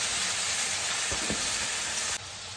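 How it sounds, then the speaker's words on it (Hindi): Tomatoes sizzling in a hot pan for a potato-tomato curry, a steady close frying hiss with a couple of soft stirring knocks, dropping slightly quieter near the end. "इसी के साथ अब हमें डाल लेना है यहाँ पर टमाटर"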